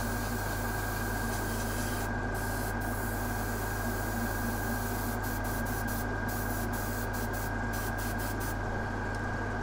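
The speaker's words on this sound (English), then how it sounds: "I'm using just air from the airbrush" An airbrush blows plain air to dry paint on weathered Necromunda bulkhead scenery: a steady, unbroken hiss of compressed air that holds at an even level throughout.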